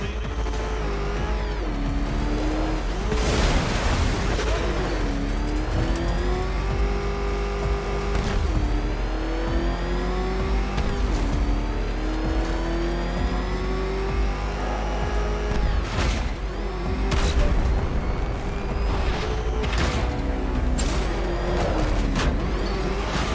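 The Batmobile's engine in Batman: Arkham Knight revs loudly and continuously, rising and falling in pitch with repeated surges of acceleration, a steady close motor roar throughout.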